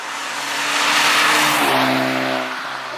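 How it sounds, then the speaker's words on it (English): A Honda Civic Type R FK2's turbocharged VTEC engine revs hard up and falls back at close range, a loud rising engine note with a steady harmonic drone over about three seconds, with no talking. "It's got that high revving VTEC engine with the turbo."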